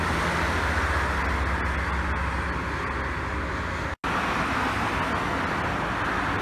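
A double-decker bus rolls past at a highway rest area, a broad, steady roar of engine and road noise close by, with traffic hum underneath and a brief cut midway.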